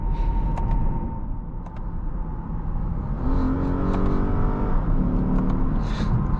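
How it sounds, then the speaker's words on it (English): A 2015 Lexus IS 250 F Sport with a 2.5-liter V6 accelerating, the engine note rising in a smooth rev climb from inside the car, steady and fairly loud with no talk. "But yeah, that engine sounds really nice."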